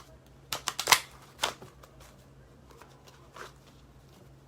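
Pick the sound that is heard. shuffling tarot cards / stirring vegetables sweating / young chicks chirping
shuffling tarot cards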